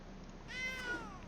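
A single soft cat meow, short and rising then falling, heard faintly over a quiet room background with no talk.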